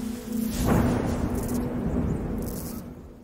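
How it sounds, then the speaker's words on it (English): Thunder rolls through a video game scene, a deep rumble that swells after a sharp crack about half a second in and then lingers, steady and loud, with no voices. "We even hear the thunder surrounding this man."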